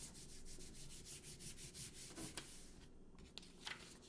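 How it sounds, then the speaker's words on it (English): A sheet of paper is rubbed flat by hand over a glued paper-cutout flower, giving a steady run of soft, rhythmic scraping strokes up close that pause briefly near the end before a few last light rubs. "Put it over the whole thing and just rub it so it all gets down flat."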